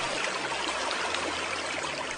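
River water flowing steadily along the banks of the Tigris, a dense continuous rushing and trickling wash, moderately loud and even throughout with no voices.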